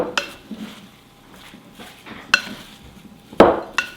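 A utensil scrapes and knocks against a bowl while cornstarch is stirred into juicy apple pie filling, with a few sharp clinks spaced irregularly over quiet stirring.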